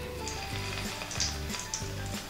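Bread slices frying in unsalted butter in a pan, a steady close sizzle with soft crackle and a few brief stirring scrapes, no voices.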